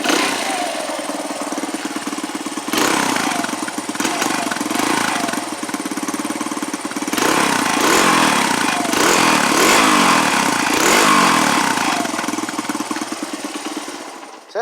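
A cold Honda XR100R dirt bike engine, choked, fires up and settles into a steady, fairly quiet running note with a bassy tone, holding a continuous mechanical chatter with a few revs throughout and no talking.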